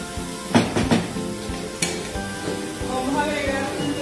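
Peppers sizzle in a hot pan while a utensil stirs them, giving a few sharp scraping strokes over a steady close-up hiss of frying.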